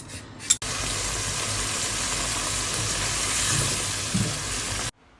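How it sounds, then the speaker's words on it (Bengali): Shrimp sizzling in spices in a hot pan for a bottle gourd curry: a steady, loud, hissing fry that runs for about four seconds, then stops abruptly. "লাউয়ের তরকারি রান্না করার জন্য চিংড়ি মাছগুলো মশলাতে কষিয়ে নিচ্ছি"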